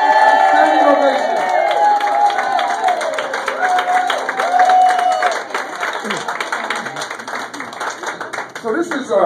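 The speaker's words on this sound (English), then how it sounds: "give her a round of applause, and give her a standing ovation" Enthusiastic audience applause and a standing ovation at the Women of Distinction award ceremony in New York, loud dense clapping with cheers and whoops, voices calling out over the crowd.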